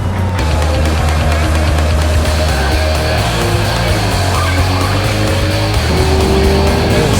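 An Audi TT driven hard around a race track, its engine loud and continuous throughout, with shifting engine tones and a brief tire squeal near the end.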